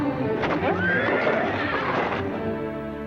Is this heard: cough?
no